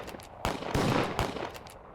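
Gunfire bursts out in a short rapid volley, several sharp loud cracks in quick succession with brief gaps between, close and harsh, with no voices.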